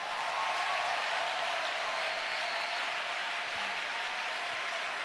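Church congregation cheering and applauding, a dense, steady wash of clapping from many hands that holds at an even, fairly loud level throughout.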